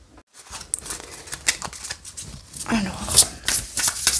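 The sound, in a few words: shuffling tarot cards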